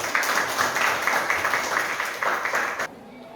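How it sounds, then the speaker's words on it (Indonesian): A classroom of students claps their hands together in a brief, moderately loud burst of steady clapping that stops abruptly near the end, leaving near silence. "Kita tepuk tangan"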